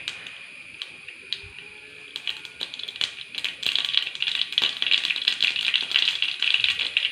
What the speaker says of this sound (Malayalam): എണ്ണ ചൂടായിട്ട് നമുക്ക് ഇതിനകത്തേക്ക് കടി ഇട്ട് കൊടുക്കാം